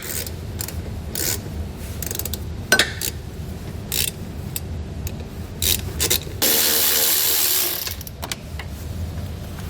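Ratcheting wrench work on 10mm bolts along the frame rail of a 2020 Nissan Rogue, with close, loud bursts of ratchet clicks and metallic scraping, short pauses between turns, and one sustained stretch of steady rasping.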